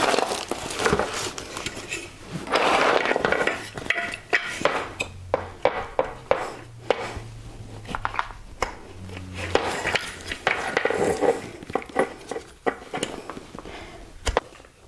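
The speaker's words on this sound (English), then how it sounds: "To start, I'm going to open up the wheels and get each of those attached. Now they attach very simply. All you have to do is just push them in." Plastic caster wheels pushed one by one into the base of a studio chair being assembled, giving a series of close, sharp knocks and snaps between quieter handling rustles.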